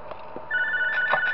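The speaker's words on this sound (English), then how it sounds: "Alright, we get a phone call." A phone in the Five Nights At John's video game starts ringing after faint background noise, a steady electronic tone holding at moderate volume with slight pulsing near the end.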